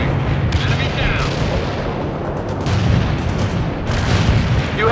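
Incoming enemy mortar fire in the World in Conflict video game, loud continuous rumbling booms and distant blasts with a voice talking over them.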